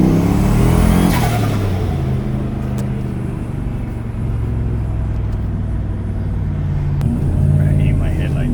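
A turbocharged Mustang engine drones and revs steadily with a deep rumbling exhaust tone, heard from inside the vehicle, with an exhaust leak; a voice talks underneath.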